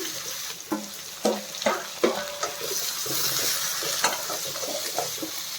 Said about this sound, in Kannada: ಆನಿಯನ್ ಫ್ರೈ ಆಗಿದೆ ಈಗ ನಾನು ಟೊಮೆಟೊ ಹಾಕ್ಕೊಳ್ತಾ ಇದ್ದೀನಿ